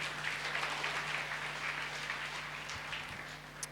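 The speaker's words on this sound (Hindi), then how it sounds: "अभी एक ताली बजाइए यीशु के लिए।" A church congregation at a Sunday service in Karimnagar claps for Jesus, a steady wash of many hands heard fairly faint and distant over a low electrical hum.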